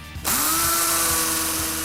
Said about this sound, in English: Drill the holes for fixings.